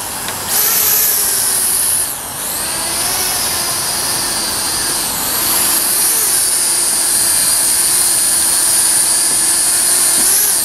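A Syma Sky Phantom quadcopter drone flies outdoors after a hand launch, its rotors giving a loud, steady high-pitched whine that rises and dips slightly as it hovers and drifts.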